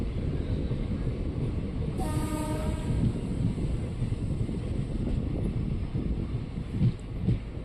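A passenger train rolls into platform 4 at Anantapur railway station, with a steady rumble of wheels and wind throughout and a short horn toot partway through.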